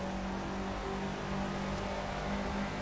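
Race car engine in the video game Project Cars, revving steadily at high pitch down a back straight, a continuous buzzing drone with no talk.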